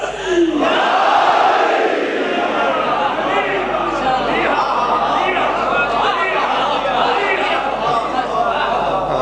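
Large gathering at a religious majlis responds loudly in unison to a cleric's call for slogans, a sustained massed shout filling the room with overlapping voices and speech.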